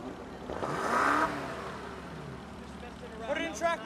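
A BMW M5 accelerating on a race track, engine note rising in a swelling whoosh past the listener, then a second car revving in the distance, with people talking and shouting nearby.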